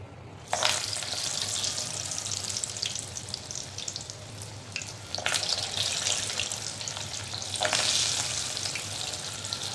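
Batter-coated vadi frying in hot oil, a close, continuous crackling sizzle with louder surges as pieces are added or turned, heard alone without speech.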